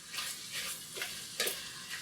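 Garlic sizzles steadily in a frying pan for a stir-fry while a utensil stirs it around, giving soft scraping swishes over a constant hiss, close and fairly quiet.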